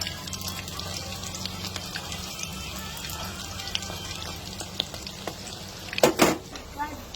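Lumpia shanghai frying in hot oil, a steady close sizzle and crackle throughout, with a brief louder clatter of turning near the end.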